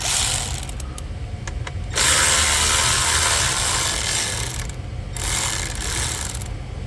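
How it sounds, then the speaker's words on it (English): A T20 Torx driver whirs as it backs out a screw in a Range Rover Sport dashboard, with loud, close, steady bursts of motor noise broken by brief pauses. "we need to use our T20 Torx right here"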